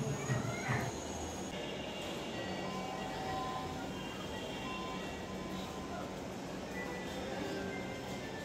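A metro rail train pulls into an elevated station in Dhaka, a quiet, steady rolling hum with faint whining tones and a brief knock near the start.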